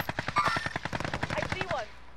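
Rapid automatic gunfire in Call of Duty: Modern Warfare rattles off in a fast burst of about twenty sharp shots over two seconds, fairly close, with a voice briefly heard alongside.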